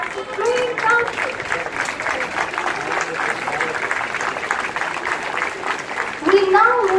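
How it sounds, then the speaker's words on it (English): Audience applause at a school investiture ceremony, a steady wash of clapping sustained for several seconds with crowd voices mixed in, swelling slightly louder toward the end. "please give a hearty round of applause for our Supreme Council"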